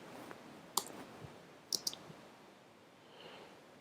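Computer mouse clicks in drawing software, a few sharp, close, quiet clicks, one single and then a quick pair, over a faint room hiss.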